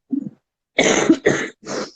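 A short faint cough, then a pause, followed by three heavy, close coughs in quick succession.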